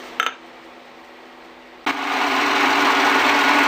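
A high-speed milling head, 40 mm across with pentagonal inserts, cuts a metal key blank at one millimetre depth, starting abruptly as a steady, close, broadband whirring grind after a brief tap and quiet hum.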